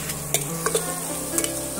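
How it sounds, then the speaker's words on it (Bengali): Spices fried and stirred in a pan for a pumpkin curry, a close, steady sizzle with a few light scraping strokes of a spatula. "এইভাবে আমি মশলাগুলো কষিয়ে নিচ্ছি"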